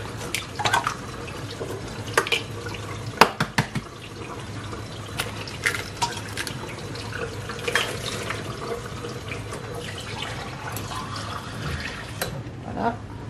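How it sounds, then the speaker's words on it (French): Hot water poured from a tap-like stream into a bowl of hamburger bun dough ingredients (warm milk, eggs), a steady gurgling trickle with a few clinks, close and fairly quiet. "On va mettre de l'eau chaude également."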